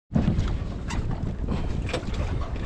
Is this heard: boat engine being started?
yes